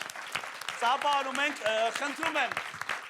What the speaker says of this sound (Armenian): մենք Նորային ծափարում ենք